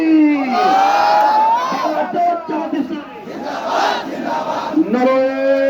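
A large crowd at a Bangladesh Jamaat-e-Islami election rally roars a battle-cry response to Nara-e-Takbir, loud massed shouting in rising waves with a single leader's voice calling between.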